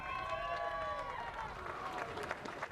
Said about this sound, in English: Nice raucous cheer for the Scotsman